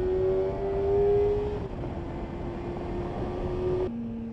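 A Kawasaki ZX-4RR four-cylinder motorcycle engine holds a high, smooth, screaming rev that rises slightly and then drops sharply near the end, heard close and loud with no talking.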